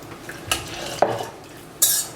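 Spoon stirring a fromage blanc mixture in a bowl for a white chocolate strawberry terrine, with a few scraping clinks and one sharp scrape near the end, close and fairly quiet, no talking.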